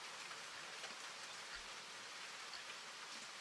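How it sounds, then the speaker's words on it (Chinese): Heavy, steady rain in a horror exploration game, a dense even hiss that continues unbroken throughout with no voices over it. "从窗外可以看到一直下个不停的大雨。"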